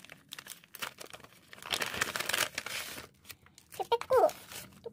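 A paper envelope of stationery is handled and opened, with crinkling, rustling and brief tearing, now soft, now louder, mixed with quiet speech.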